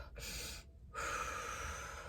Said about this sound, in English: Take a huge breath in.